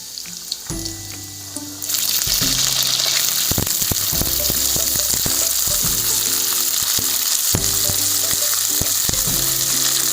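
Long beans (barbatti) hit hot oil in a pan for potato and bean bhujiya, setting off a sudden loud, continuous sizzle close by, with light utensil knocks and stirring sounds and no talking.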